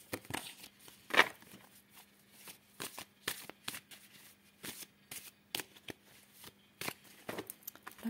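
Tarot cards being cut and handled, a series of crisp papery shuffles and flicks in irregular bursts, close and quiet, with a low steady hum underneath.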